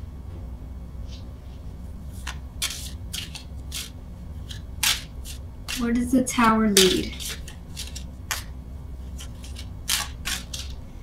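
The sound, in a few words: shuffling tarot cards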